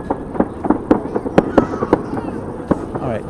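Fireworks pop and crackle outdoors on New Year's, a rapid irregular series of sharp bangs at middle distance over steady background hiss, with a voice speaking briefly.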